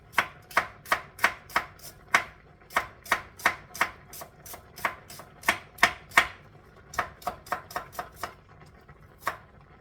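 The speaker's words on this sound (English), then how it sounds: "So slice my okras in circles, guys. Just cut them across real thin." Knife slicing okra thinly into rounds on a cutting board, with about two dozen crisp, evenly spaced chops in quick bursts, close and clear with no talking.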